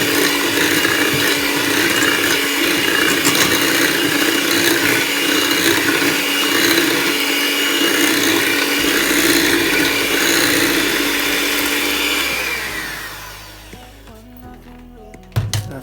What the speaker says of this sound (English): I'm just blending up the plantain, the egg, the vanilla, and the butter and the sugar.